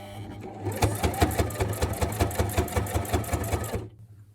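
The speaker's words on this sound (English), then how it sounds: "You just turn that wheel that you have on your sewing machine and just help it." A sewing machine runs in a steady, rapid burst of stitching for about three seconds, its rhythmic mechanical clatter close and clear, then stops.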